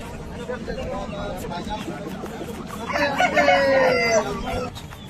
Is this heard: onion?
no